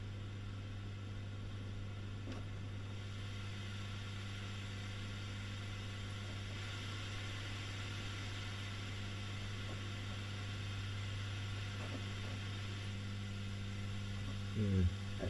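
A faulty Fender Bassman reissue amplifier with wrong output tubes and wrong primary voltage, giving a steady low hum and hiss with sparse faint crackling pops and a louder burst of noise at the very end.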